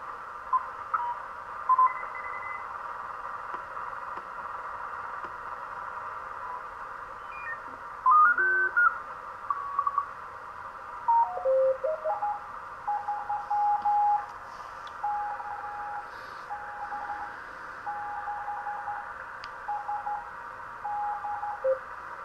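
A 1970s-style LM373 SSB transceiver with a galvanized sheet metal case is tuned in 1 kHz steps, giving a steady faint radio hiss with brief chirps and warbling tones as stations slide past.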